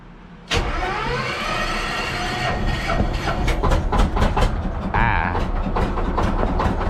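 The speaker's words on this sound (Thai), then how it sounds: "เดี๋ยวจะสตาร์ทให้ฟังเสียงนะครับ อ่าสตาร์ทดึงวาล์วนะครับดึง วาล์วตัวนี้นะแล้วก็บิดนะครับ" A turbocharged motorcycle engine sputters to life with a sharp start, then runs roughly with rising revs and rattling bursts, loud and close.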